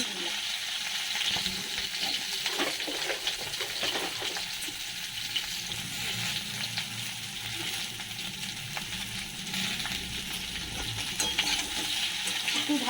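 Potato, eggplant, green banana, pumpkin, drumstick and beans sizzle and fry in a pan for Bengali shukto, with steady crackling broken by repeated scraping stirs close by.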